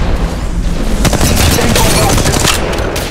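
Gunfire in the mobile shooter Apex Legends Mobile during a ranked match, with loud rapid bursts and booming shots that continue densely throughout, mixed with game noise.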